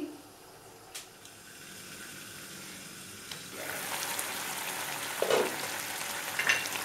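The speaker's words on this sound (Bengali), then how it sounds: "একটু আমি ফুটিয়ে নেব। আমি ঢেকে দিলাম সেদ্ধ হওয়ার জন্য।" Chili cauliflower cooking in a covered pan on medium heat, a low bubbling hiss that swells into a louder, steady sizzle partway through, with a couple of faint clinks.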